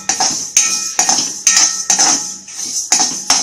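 Fenugreek, fennel and coriander seeds being dry roasted in a pan, heard as a close, loud metal spoon scraping and clanking against the pan in a regular rhythm of about eight strokes.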